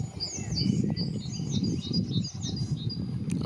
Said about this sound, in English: That's a blue tit.